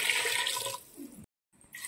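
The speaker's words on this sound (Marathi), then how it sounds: "तांब्या पाणी घालायचं आहे।" Water poured from a small metal pot into a pressure cooker holding soaked peas, spinach and a little oil: a broad splashing pour that thins out, a brief pause, then another short pour, close and fairly loud.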